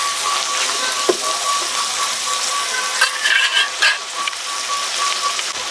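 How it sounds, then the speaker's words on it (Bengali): Ginger and garlic paste sautéing in a pan, a steady close sizzle and crackle with occasional scrapes and clinks of the spatula stirring it, no talking. "আদা রসুন খুব সুন্দর করে কষিয়ে নেব।"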